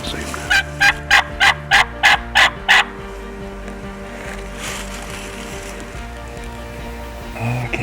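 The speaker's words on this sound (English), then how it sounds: "Two birds near the road." Wild turkeys near a road gobble in a quick run of about eight rattling calls, moderately distant and clear, then fall silent over a low steady engine-like hum.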